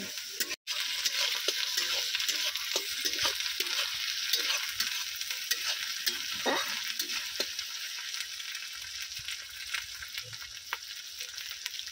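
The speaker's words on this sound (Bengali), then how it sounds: "দিয়ে দেবো রসুন বাটা আদা বাটা আদা রসুনটাও কিন্তু খুব ভালো করে কষিয়ে নেব।" Ginger and garlic paste fries in oil with a continuous bright sizzle and occasional stirring taps, close and moderately loud, one brief dropout near the start, no voices.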